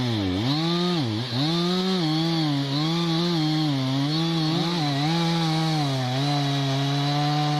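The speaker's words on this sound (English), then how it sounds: "Chainsaws can handle huge tree trunks with incredible speed and efficiency." A chainsaw cuts through a huge felled tree trunk beside a road, its engine howling loudly and close with repeated dips and rises in pitch as the blade bites and frees through the wood.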